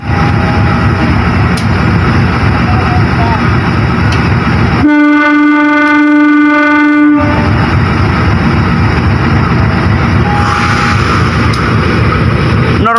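A passenger train rumbles loudly past at a station, broken by a long, steady horn blast partway through before the rolling clatter of the cars resumes.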